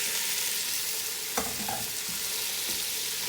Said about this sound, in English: And you're going to give these a good stir.